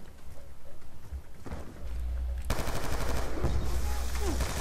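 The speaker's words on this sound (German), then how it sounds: "Was haben die denn für Waffen, dass die so schnell schießen?" Rapid automatic gunfire from the video game Call of Duty Black Ops 2, dense continuous bursts that grow louder and more sustained midway, with a faint voice beneath.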